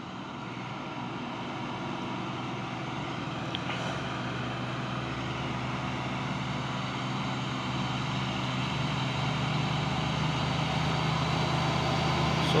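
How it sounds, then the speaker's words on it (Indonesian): An orange Mitsubishi Fuso truck and an Isuzu ELF box truck roll past with a steady, broad engine rumble and road noise that swells slightly louder over about twelve seconds, with no talking. "masuk lagi truk puso oren ya, dan di sampingnya ada truk box Isuzu ELF"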